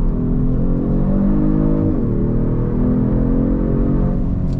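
A 2022 Genesis G70 Sport in Sport Plus mode accelerates hard, its engine note loud and close, climbing steadily in pitch, dipping briefly at a shift, then rising again with no talk over it.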